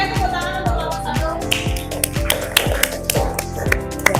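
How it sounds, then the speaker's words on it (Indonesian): A classroom group claps for the first presentation group in a steady, evenly spaced rhythm of sharp hand claps, each about half a second apart, fairly close and bright. "tepuk tangan untuk kelompok 1"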